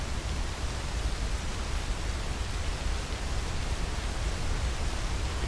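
Roar of a waterfall seen from above a deep drop, a dense unbroken broadband rush that stays steady and loud throughout with no voices.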